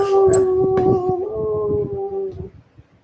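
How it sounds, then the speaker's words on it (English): A puppy howls up close in one long, loud, sustained tonal cry that wavers slightly and then trails off, followed by a few faint whimpers and scuffing noises. "There's a puppy."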